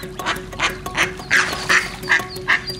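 Ducks quack repeatedly in short, loud bursts at close range, a mother duck with her ducklings in a pool, with a steady faint hum underneath.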